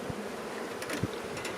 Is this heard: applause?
no